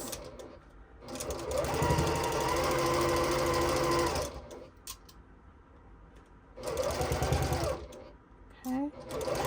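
A sewing machine stitches a quilt heart block in two bursts of rapid, steady whirring, each a few seconds long, with quiet handling noises between them and close to the listener.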